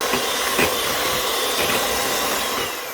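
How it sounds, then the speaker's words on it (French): Vanilla ice cream base being whisked for a few seconds to work in a little air, giving a steady, fairly loud whirring rush with faint rhythmic scraping throughout, no talking. "je vais fouetter pendant quelques secondes"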